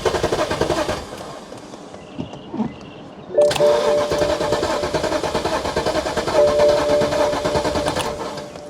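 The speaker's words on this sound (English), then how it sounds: "It's cranking now, but it is not starting, which is not good." BMW E60 550i V8 with manual transmission cranking without starting, a fast rhythmic starter chug that rises in level partway through and continues steadily without catching.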